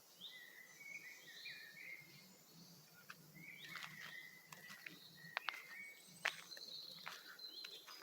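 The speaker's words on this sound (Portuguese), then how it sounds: "Som dos pássaros." Several birds sing and chirp in a Dutch forest in the afternoon, faint, scattered whistles and tweets over quiet background rustle, with a few sharper calls nearer by.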